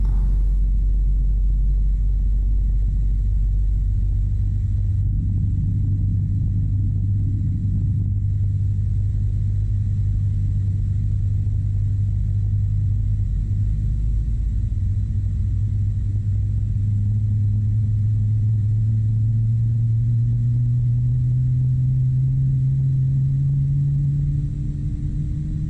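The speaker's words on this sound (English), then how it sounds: "We can start the left engine now." Left engine start on a PMDG 777-300ER in a flight simulator game: a deep steady rumble with a low whine that slowly climbs in pitch as the engine spools up over about twenty-five seconds, with no talking.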